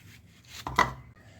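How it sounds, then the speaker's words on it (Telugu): A knife cuts through a firm cucumber on a board, giving a single crisp chopping thud followed by a brief crunchy slice, close and alone. "ఇప్పుడు దోసకాయల్ని శుభ్రంగా కడుక్కొని కట్ చేసుకుందాం."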